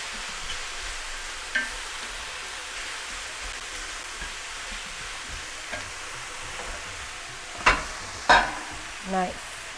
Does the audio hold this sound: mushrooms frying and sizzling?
yes